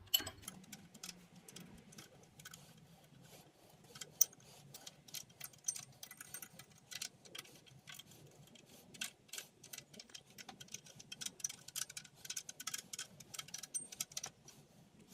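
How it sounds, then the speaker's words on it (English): Socket ratchet turning to hand-tighten head bolts on a Toyota 3.4L engine, a quiet run of fine, irregular clicks and ticks, close and faint, with no talking. "Just hand tighten these bolts with the socket."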